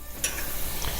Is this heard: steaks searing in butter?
yes